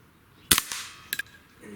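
A JTS Brawn toy gun fires at a shotgun shell target, giving a sharp snapping shot followed by a second, fainter crack a moment later, close and alone over a quiet background.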